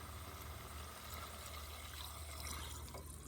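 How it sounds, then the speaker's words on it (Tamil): Water pours steadily over pork in a pot, a continuous splashing rush that stays even and fairly loud throughout, with no voices. "கறி முழுகிற அளவுக்கு ஊற்றியாச்சுங்க."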